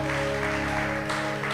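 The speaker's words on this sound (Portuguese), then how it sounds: "Quem pode aplaudir o Senhor por isso?" A congregation in a church applauds during a bishop's sermon, a short burst of clapping layered over a sustained instrumental chord that holds steady beneath it.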